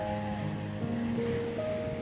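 Evening sea waves wash steadily onto Jomtien Beach in Pattaya, a continuous soft surf hiss filling the background with no voices, broken by a few faint tonal hums.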